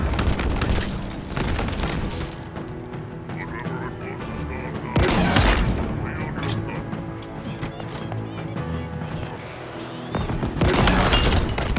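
Bursts of gunfire and booming blasts in the shooter game Halo Infinite, loud and sustained, with heavy thuds and rattling shots layered over a dense battle din.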